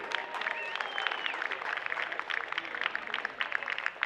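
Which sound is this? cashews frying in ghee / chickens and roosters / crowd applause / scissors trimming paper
crowd applause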